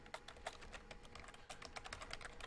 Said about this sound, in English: You might hear me typing sometimes during this show